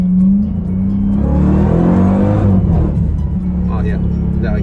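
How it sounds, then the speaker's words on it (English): A Dodge Durango Hellcat's supercharged engine revs hard under acceleration, with a loud, steady exhaust drone and whine heard from inside the cabin, the note rising and holding before easing slightly near the end. "The amount of exhaust noise is actually pretty strong in the cabin."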